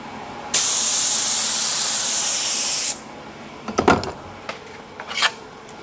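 Spray gun blasting activator onto carbon fiber film, a loud steady hiss lasting a little over two seconds, then stopping abruptly, followed by a few brief nearby handling knocks.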